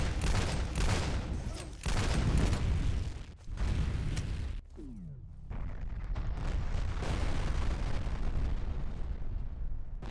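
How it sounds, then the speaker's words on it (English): Rocket explosions and gunfire in the shooter game FEAR, several heavy booming bursts in quick succession, loud and near, then a brief drop and a lingering rumble of debris and continued firing. "How that rocket clipped on that, I won't understand."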